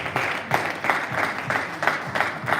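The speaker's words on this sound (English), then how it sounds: "I want you to give yourselves a round of applause." Audience applause for quiz finalists at a memorial anniversary final quiz competition, rhythmic rounds of clapping pulsing steadily throughout, moderately loud and close, with no talk over it.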